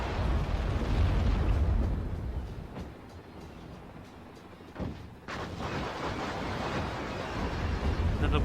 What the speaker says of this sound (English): Another wave of missiles coming in, hitting the MG nest.